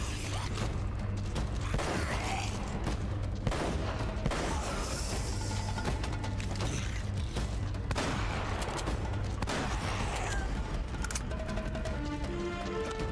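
Gunfire in the action game Uncharted: Drake's Fortune, a steady stream of shots and mechanical clatter over a constant low game soundtrack, with no talk.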